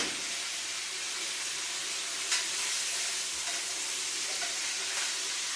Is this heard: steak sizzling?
yes